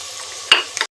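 Onions and tomatoes fry in ghee with salt, giving a soft close sizzle. A sudden scrape of a spatula cuts in midway, with a brief second stir just before everything stops.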